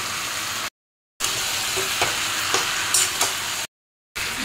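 Pumpkin fries in a pan, a close, even sizzle with a few stirring scrapes and clinks, interrupted by two short gaps of silence.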